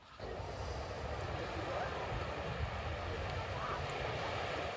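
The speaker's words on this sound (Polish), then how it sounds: "Tak wygląda plaża Puerto de la Cruz" Surf breaking on the beach at Puerto de la Cruz, heard as a steady, broad roar of waves with wind noise throughout, continuous and fairly loud without distinct individual crashes.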